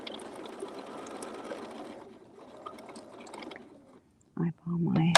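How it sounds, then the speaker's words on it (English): A sewing machine stitches a double gauze blanket in steady continuous runs that stop and start, close and moderately loud, with a louder burst near the end. "just pin it and keep on sewing"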